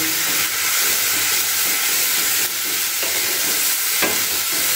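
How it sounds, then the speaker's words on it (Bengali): Spice paste with salt and turmeric gets stirred in a hot pan, giving a loud, continuous frying hiss with faint scraping strokes about every second, up close and without voices. "তার সাথে দিলাম নুন আর হলুদ একসাথে দিয়ে একটু ভালো করে নাড়াচাড়া করে নেব"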